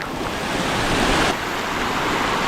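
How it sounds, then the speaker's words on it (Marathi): A loud, continuous roar of a rushing stream above Dhangar waterfall in Badlapur, steady and close, with wind buffeting the microphone. "हा बघा पाण्याचा प्रवाह किती आहे"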